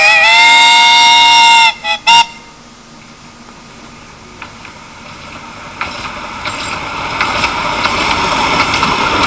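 A miniature steam train on the Cleethorpes Coast Light Railway sounds a long, loud whistle close by, then gives two short blasts, followed by a rising rumble and clatter of the passing train.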